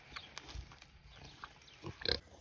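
Pigs on an off-grid homestead grunt and snort close by in short bursts, with a louder cluster of squealing grunts near the end.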